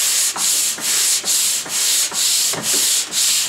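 A sanding block rubs back and forth across hard, dense wood in steady rhythmic strokes, roughly seven passes with brief pauses between them, close and loud with no talking.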